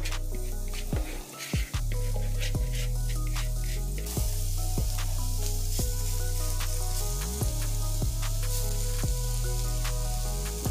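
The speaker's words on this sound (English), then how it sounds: "while the jackfruit is in the frying pan browning up" Steady sizzling of jackfruit frying in hot oil in a frying pan over medium-high heat, with intermittent crackles and soft clinks, close and continuous with no talking.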